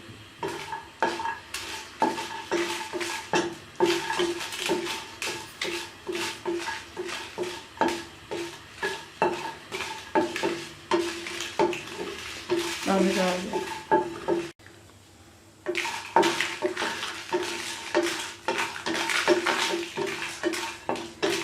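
Whole red chillies and cashews are roasted in a dry frying pan over medium heat, with a busy, rhythmic scraping and stirring and a light sizzle close by, pausing briefly before the stirring picks up again.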